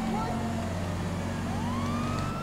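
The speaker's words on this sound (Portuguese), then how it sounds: "Vamos tá ligando aqui a sirene" Police car siren in GTA V during a highway patrol chase, a steady wailing tone sweeping up and down continuously over a low vehicle hum.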